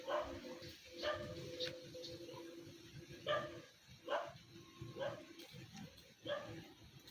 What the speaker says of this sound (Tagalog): Mga friendly dog po yan.